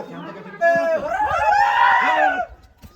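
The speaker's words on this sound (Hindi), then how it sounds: "चिल्ला तो रहे लोग, चिल्ला रहे हैं" Villagers in Uttarakhand scream and shout together at night after a tiger sighting. Several raised voices overlap in a loud, rising outcry.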